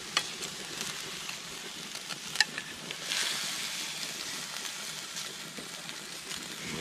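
Pepper being stirred into frog meat frying in a pan, with a steady close sizzle and light scraping of the stirring throughout, and a brief sharper clatter partway through.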